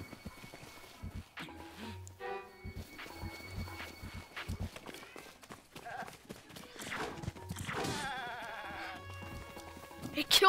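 Goats bleat several times in The Legend of Zelda: Breath of the Wild, mixed with hoof clip-clops and footsteps amid other game sounds, with a loud burst near the end.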